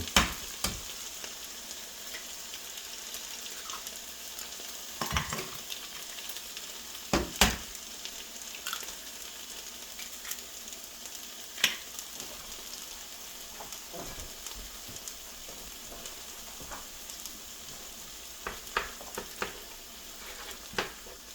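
Cracked eggs frying in a pan for a scramble with meat and vegetables, a soft steady sizzle with occasional spatula scrapes and taps, close-up and fairly quiet, no voices.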